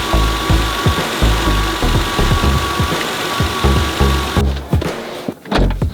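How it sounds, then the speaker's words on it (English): A Lexus GS300 engine idles up close after an ignition timing adjustment, a loud steady rumble with rhythmic pulsing knocks, then cuts off abruptly near the end, leaving a few brief clunks. "It's running okay at idle."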